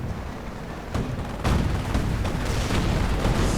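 Video game battle in the streets of Sturzdorf as US Rangers are gunned down: dense overlapping gunfire and booming blasts roll on continuously, loud and heavy, like a busy firefight at middle distance.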